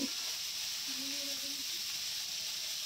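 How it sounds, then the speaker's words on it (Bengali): Crabs fry in hot oil with cumin in a pan, giving a steady, dense sizzling hiss that holds at an even level throughout, close up, with a faint brief tonal whine and no clear speech. "একে একে কাঁকড়াগুলো দিয়ে দেবো সবগুলো, এগুলো ভালো করে ভেজে নেব।"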